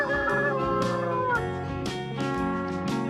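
A rooster crows loudly in a farm setting, with several shrill, drawn-out calls and overlapping clucks from other fowl close by, no talking.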